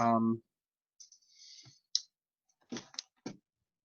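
Typing on a computer keyboard during an online session, heard as a few sparse, soft key clicks in short bursts after a brief bit of speech, with quiet gaps between them.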